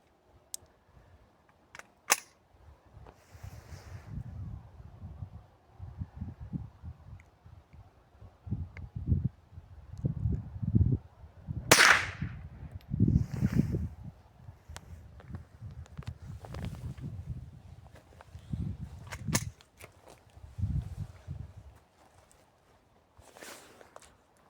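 Adler .22 LR rifle firing at an outdoor shooting range, a series of sharp, fairly light cracks spaced irregularly with handling clicks and movement noise between them.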